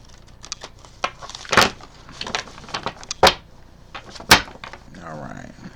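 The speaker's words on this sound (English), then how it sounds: "Let's get a good shuffle in." Slick oracle cards being shuffled by hand, a run of soft crisp riffles and taps with a few sharper snaps, close and fairly quiet, ending in a brief fluttering rustle.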